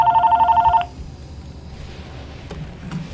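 A telephone rings indoors with a fast, warbling electronic trill pulsing rapidly for under a second before cutting off, followed by quiet room tone and a few faint knocks.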